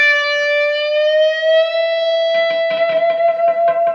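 An electric guitar holds a bright, distorted note that slowly bends upward in pitch with vibrato, with choppy rhythmic pulses joining under it partway through.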